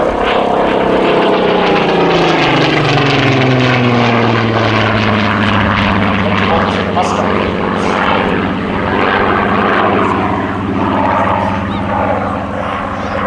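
A Supermarine Spitfire's Rolls-Royce piston engine roars loudly and continuously at an air festival display, a deep propeller drone that slowly shifts pitch as the aircraft passes close by.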